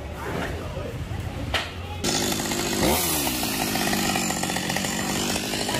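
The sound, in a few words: chainsaw cutting a large tree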